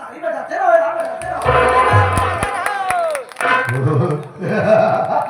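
Live audience clapping and cheering at a Hindi stage comedy show, bursts of applause and crowd noise rising and falling under loud, close male speech.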